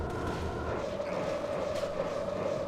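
Chained corpse explosion spells from a Necromancer in the Path of Diablo action game, a continuous dense rumble of overlapping blasts with a sustained tonal hum running through it.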